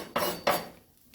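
A fork scrapes and taps egg in a pan on the stove, two quick metallic clatters close by, then a short quiet gap before another light scrape.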